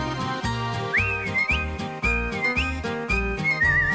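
A man whistles a bright melody over an accompanying accordion-like instrumental with a steady oom-pah bass pulse, the whistled line clear and close throughout.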